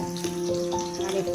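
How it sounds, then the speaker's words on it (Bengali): Potatoes frying in hot oil with a steady soft sizzle, overlaid by a faint tonal hum from nearby. "আলুটা ভাজা হয়ে গেছে।"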